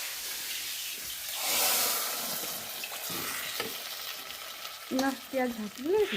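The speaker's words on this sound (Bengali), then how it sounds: "খিচুড়িতে ফোড়ন দেওয়ার আওয়াজ" Spices crackle and sizzle in hot oil while khichdi is tempered, a steady loud hiss swelling briefly, with stirring noises and a voice talking toward the end.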